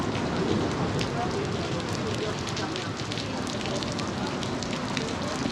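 Rain drums steadily on a shed roof, a dense unbroken patter with scattered sharper drop hits, while people shelter and murmur faintly underneath.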